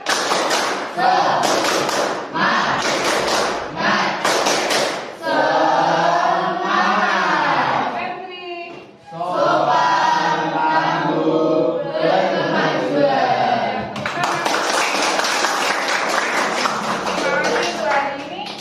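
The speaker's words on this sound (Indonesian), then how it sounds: "kita tepuk semangat lagi yuk" A class of students claps and chants the rhythmic Indonesian 'tepuk semangat' cheer during a science lesson, with loud, steady claps under chanting voices that carry on through most of the stretch.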